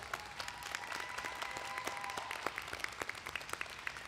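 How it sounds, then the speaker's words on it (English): Audience applause at a biomedical informatics school commencement ceremony as an award winner is announced, a steady wash of many hands clapping at moderate level with a faint sustained tone running beneath it. "Please give him a round of applause."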